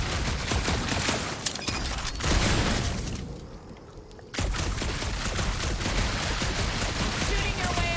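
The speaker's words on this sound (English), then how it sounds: "Shooting your way out of every problem again, Peter?" Rapid bursts of gunfire and blasts in Guardians of the Galaxy fill the scene loudly and continuously, dropping briefly into a quieter lull before the heavy shooting resumes.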